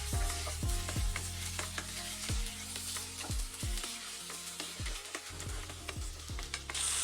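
Onions and tomato sautéing in a pan for egg biryani, a continuous sizzle broken by repeated scraping strokes of a spoon against the pan at a fairly regular pace, close and clear.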